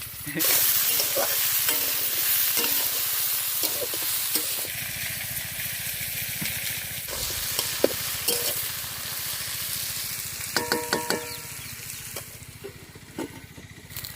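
Vegetables fry in a pan with a steady, close sizzle, broken by scraping stirs and clattering utensil knocks, which grow busier toward the end.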